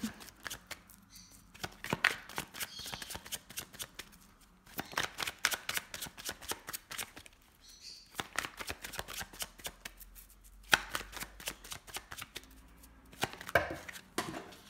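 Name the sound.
shuffling tarot cards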